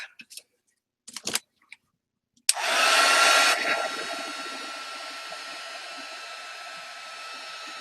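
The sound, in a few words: dryer drying paint on an art journal page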